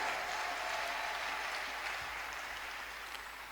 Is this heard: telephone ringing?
no